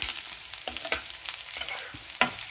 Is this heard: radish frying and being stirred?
yes